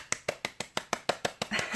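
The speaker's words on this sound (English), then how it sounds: "Another great one to bring us to the present moment is clapping." Single pair of hands clapping slowly and evenly, about nine distinct claps at a steady rhythm, close and fairly quiet, with the last clap slightly longer and rougher.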